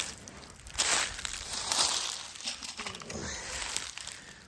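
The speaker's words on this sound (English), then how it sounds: "Get my plastic bag out." A plastic bag crinkles and rustles close by while being pulled out in a swamp setting during a canoe hunting trip, with steady scrunching bursts and a few louder crackles.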